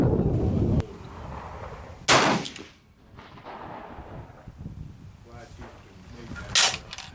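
A scoped K31 rifle fires at a shooting range, a sharp loud crack near the middle followed by a fading echo, with a second distant report near the end and low background noise and talk around it.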